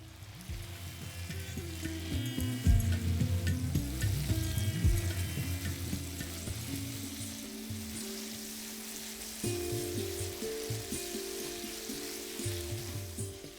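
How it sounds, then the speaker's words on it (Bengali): Yardlong beans frying in hot oil for a Bengali shukto, giving a steady, close sizzle with soft stirring clatter throughout. "আমি এখানে বরবটিটাকেও ভেজে নেব"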